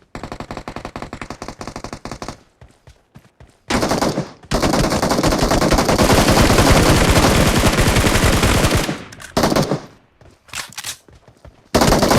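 Rapid automatic gunfire from a video game shooter, with short bursts followed by a long, loud continuous stream of machine-gun fire, then scattered shorter bursts and single shots toward the end.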